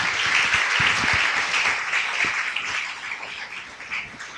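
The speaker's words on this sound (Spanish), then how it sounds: "Dile un fuerte aplauso al Señor" Church congregation applauding during a Spanish-language worship testimony, a steady wash of many hands clapping throughout, slightly thinning toward the end, with a few sharper individual claps standing out.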